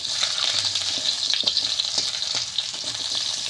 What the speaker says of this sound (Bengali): এবার দিয়ে দেবো আম দিয়ে ভালো করে আমি নেড়ে নেব।